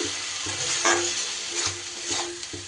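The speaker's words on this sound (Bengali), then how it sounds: "আদা রসুনের গন্ধ না যাওয়া পর্যন্ত আমি কষিয়ে নেব ভালো করে" Ginger-garlic paste and green chillies fry and sizzle steadily in a pan, with a spoon scraping and stirring in regular strokes close by.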